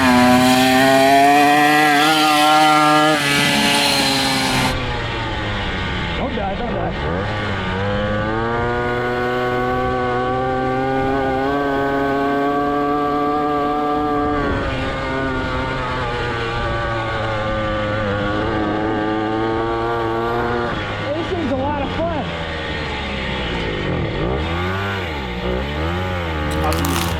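A 1969 Morini 50cc two-stroke mini bike engine runs steadily and close up for the whole stretch, its buzzing note rising and falling as the throttle is blipped and revved.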